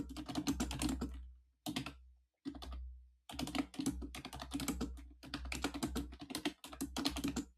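Rapid clicking on a computer keyboard in bursts of fast typing separated by short pauses, close and fairly loud, with no speech.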